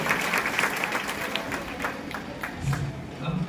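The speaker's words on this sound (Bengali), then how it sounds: "সকলে একবার জোর করে হাততালি দিয়ে" An audience claps in sustained applause, a dense even patter of many hands heard close, with a faint voice underneath.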